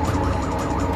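A police siren wails in Watch Dogs, loud and continuous with a wavering pitch that rises and falls throughout the short moment, heard alone with no talk.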